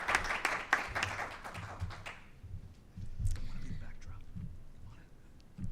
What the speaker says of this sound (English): Let's give her another big round of applause while we hear from her.